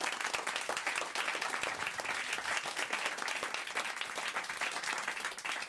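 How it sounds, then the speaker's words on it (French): A studio audience at a French radio comedy show applauds in a dense, steady wash of clapping that runs loud and unbroken from start to finish. "je reprends quand même sur des applaudissements"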